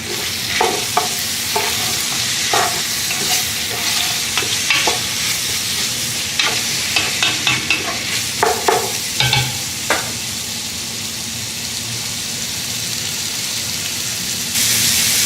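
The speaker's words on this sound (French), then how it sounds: "les oignons, les échalotes sont en train de compoter" Onions and shallots cook down slowly in a pan with a steady, close sizzle, broken by repeated clinks and scrapes of stirring that come in irregular bursts, with no talking.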